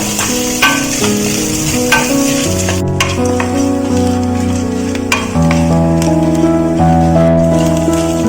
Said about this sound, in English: Fry till the color changes to brown.